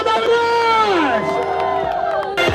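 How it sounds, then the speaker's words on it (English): Crowd at a KTM Orange Day event in Guwahati cheering a prize winner, loud whoops and shouts that rise together, then settle into scattered voices and a fresh burst at the end. "Can we have a big cheer for Arunash?"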